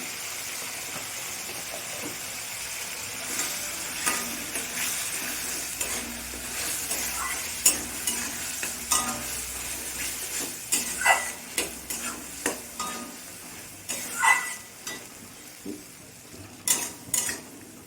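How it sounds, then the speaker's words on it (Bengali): Spice masala of chilli and turmeric powder frying in a pan for a Bengali ridge gourd and fish curry, stirred steadily with a utensil; a soft continuous sizzle runs under repeated scraping strokes that grow sharper and more frequent, close and moderately loud, no talk. "মশলাটা আমি একটু ভালো করে নাড়িয়ে চাড়িয়ে নেব, তাহলে কাঁচা গন্ধ থাকবে না"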